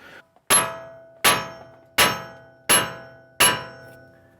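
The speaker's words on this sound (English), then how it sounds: "so when you're hitting it, you're going to hit the nut and not the threads" Five sharp metallic hammer blows strike the axle nut on a 2011 Toyota Tundra during a wheel bearing replacement, evenly spaced with ringing decays, loud and close, with no talking.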